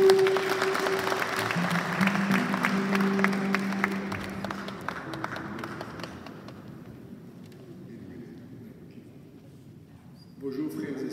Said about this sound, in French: Merci, on applaudit Papa.